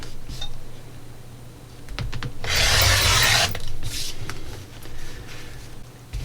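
Rotary cutter or shears slicing quilting fabric into strips for sashing, with a few close, short rasping strokes and one longer scraping pass over a cutting surface, no talk.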